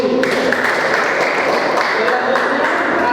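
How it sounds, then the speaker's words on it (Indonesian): Sustained applause from a church congregation fills the space with a dense, steady wash of clapping from many hands, loud and continuous with no pauses. "tepuk tangan dulu"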